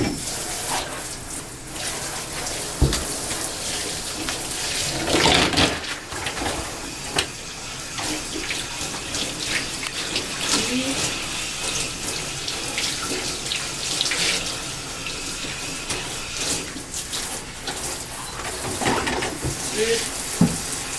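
Tap water runs steadily into a bathtub during a rinse, with splashing and shifting flow over about twenty seconds and occasional louder bursts as the stream hits the tub.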